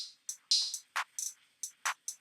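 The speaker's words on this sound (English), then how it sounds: "Okay, the drums sound like this" Sparse ambient drum pattern used as a rhythmic texture base, with soft clicky hits and brighter noisy bursts falling in an uneven, loose rhythm, each hit short and separated by brief gaps.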